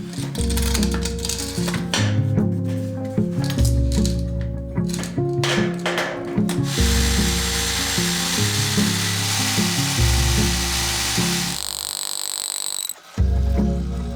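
A power drill runs in long, loud, grinding bursts through a house wall with brief pauses between them, its motor pitch shifting as it bores, then a higher whine near the end.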